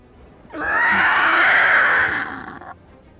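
A human voice imitates a creature screaming in pain during a tabletop roleplaying session. It is one loud, sustained, strained cry lasting about two seconds, then it cuts off into quiet.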